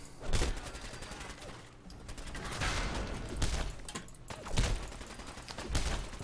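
Rapid video game gunfire, repeated sharp bursts and bangs scattered over several seconds, fairly faint in the mix.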